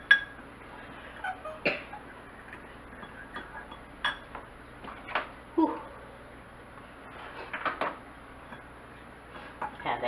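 Pickles seasoned with salt and pepper are mixed in a bowl, giving scattered light clinks and taps of utensil on dish, close but soft, with short pauses between.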